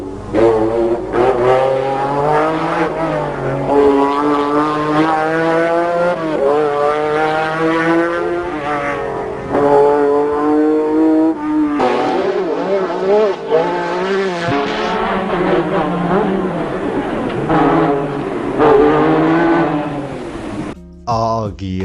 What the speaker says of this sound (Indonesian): Itu suara V6 Ferrari-nya itu bagus banget.